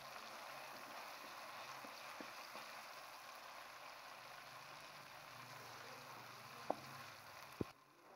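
Onions frying with garlic, ginger and green chili paste give a faint, steady sizzle, broken near the end by two sharp clicks of a utensil.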